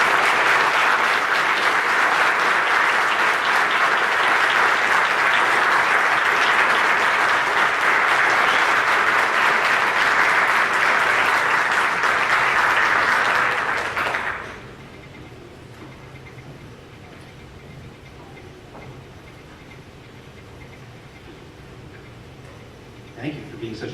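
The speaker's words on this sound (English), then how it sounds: "let's give them a round" A school assembly audience breaks into loud, sustained applause lasting about fourteen seconds, a dense wash of many hands clapping together, before it abruptly dies away into quiet room tone with faint stray sounds.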